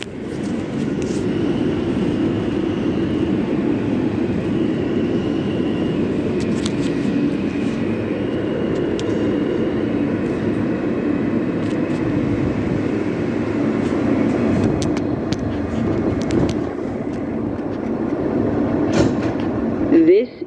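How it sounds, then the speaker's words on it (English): An R160 G subway train rumbles steadily throughout with a low, continuous roar and rattling of the cars. Muffled voices are faintly audible beneath the noise. "This is a Queens-bound G train."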